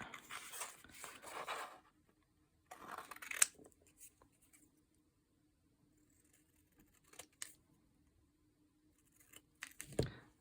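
Scissors snipping through a paper template, several short crisp cuts in small clusters separated by quiet pauses, close and soft, with no talking.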